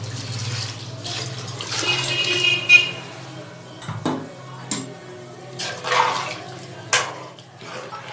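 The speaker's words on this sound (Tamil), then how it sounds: "இப்போ நம்ம தண்ணி சேர்த்துக்கலாம்." Water, about one and a half cups, is poured into a pressure cooker of chicken biryani, making splashing pours in uneven bursts with clinks of the vessel between them, close by and moderately loud.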